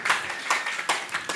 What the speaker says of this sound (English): I don't like your applause. It's sounding like I'm forcing you.